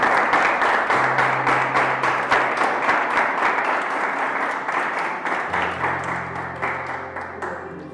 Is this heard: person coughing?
no